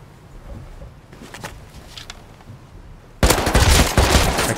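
MP5 submachine gun fire in the Rust game: a few faint, distant shots at first, then a loud, close, sustained automatic burst for the final second or so.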